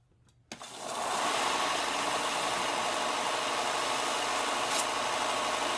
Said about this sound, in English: I'm just going to go ahead and hit this blade with the belt sander